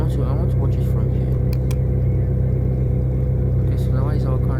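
A car driving in a simple Unity car game, its steady engine rumble continuous and loud throughout, with a voice talking over it.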